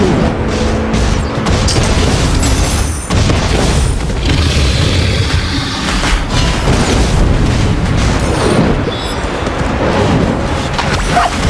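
Heavy booming explosions and rumbling in the mobile game Honor of Kings as a turret is destroyed during a mid-lane ranked match, loud and dense throughout with layered impacts and game effects.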